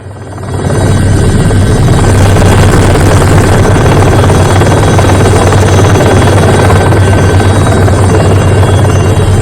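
An Indian Air Force rescue helicopter during cyclone flood rescues in Sri Lanka thunders very loudly and close, its rotor thumping in a steady fast pulse over a whining engine drone after a brief rise at the start.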